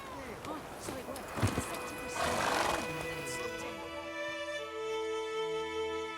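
Roach, Geralt's horse in The Witcher 3, whinnies loudly with a rising and falling neigh, along with clip-clopping hooves and game sounds, while voices talk around it.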